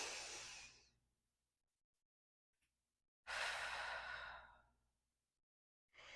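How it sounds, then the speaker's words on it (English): A person takes deep breaths, in through the nose and out through the mouth, producing two long, close, airy exhales separated by quiet pauses, with a third breath starting at the end. "In through your nose and out through your mouth."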